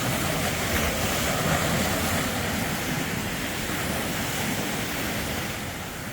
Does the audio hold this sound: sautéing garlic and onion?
no